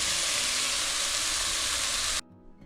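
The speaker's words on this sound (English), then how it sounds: "then we're gonna go ahead and deglaze it again" Liquid hits a hot jambalaya pot during deglazing, a loud dense sizzle that holds steady, then cuts off abruptly and leaves faint quiet background.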